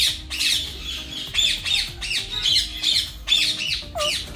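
A talking bird squawking nearby, with repeated loud, harsh calls in uneven bursts, each a sharp screech with short gaps between.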